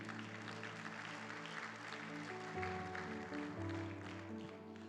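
A church congregation claps together in an offering of applause during a Spanish-language service, a dense, steady wash of hand claps over sustained musical tones, filling the whole stretch at even loudness.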